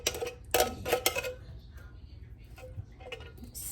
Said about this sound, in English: Dump them in a bowl and scrape out all that goodness in there.